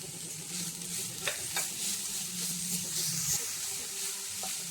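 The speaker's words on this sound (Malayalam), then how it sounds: "ബീട്രൂട്ട് കുറച്ച് സമയം ഒന്ന് വഴറ്റി കൊടുക്കണം." Grated beetroot with chopped green chillies sautéed and stirred in a pan, a steady close sizzle with scraping spoon strokes throughout.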